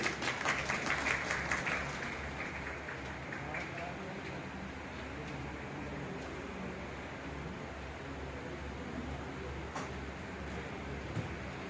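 Applause at a Holi gathering of the Vaishnav Brahmin community in Mathura-Vrindavan, a crowd clapping steadily with a busier burst in the first two seconds, then a softer, even patter under a low hum with some speech mixed in.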